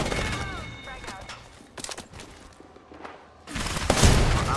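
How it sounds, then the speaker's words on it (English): Charge rifle gunfire in a shooter video game: several sharp bursts and booms spread unevenly, with a louder blast near the end and quieter gaps between them. "This man is running a charge rifle on purpose."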